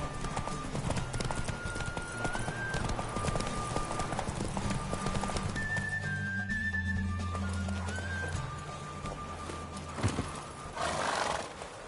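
Roach the mare galloping in The Witcher 3 video game, a steady, fast clip-clop of hooves with a neigh near the end, set against continuous background game music.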